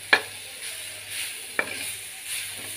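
Chutney ingredients sizzle softly in oil, a faint steady hiss broken by two or three sharp clinks of a stirring spoon against the pan, with no voices.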